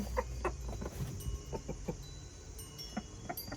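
A rooster clucks in scattered short bursts, with faint scratching and rustling in a quiet background.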